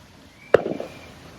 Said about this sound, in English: And those are fireworks.